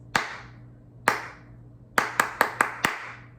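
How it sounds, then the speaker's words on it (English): Hand claps alone in a rhythm: two single claps spaced about a second apart, then a quicker run of five sharp claps in sixteenth-note pattern, close and crisp over a faint steady hum. "I want you to clap it back."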